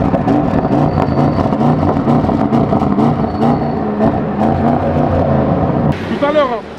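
A 2025 Audi RS6 Performance drives along with a steady, loud road and engine rumble, while people talk over it throughout.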